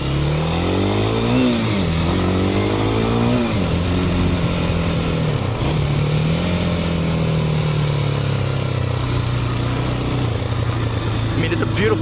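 A motorcycle engine running loud and near, revving up and down through a few swells before settling into a steady drone, with a person talking over it.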